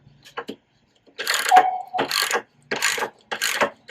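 Ratchet driving a T40 bit on the reservoir of a BMW R18 motorcycle, a few short clicks followed by several loud bursts of rapid ratcheting, close up with pauses between.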